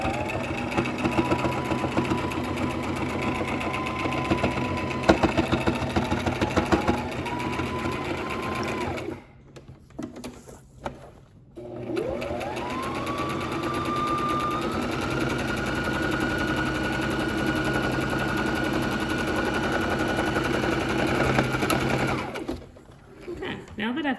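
Sewing machine top stitching around the edge of a home-sewn fabric mask for healthcare providers, a steady close mechanical whir that runs on for long stretches, broken by short pauses for pivoting, with some talk under it.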